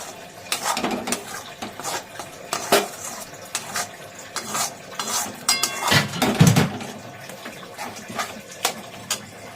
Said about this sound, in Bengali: এবার এটাকে ভালো করে কষিয়ে নিই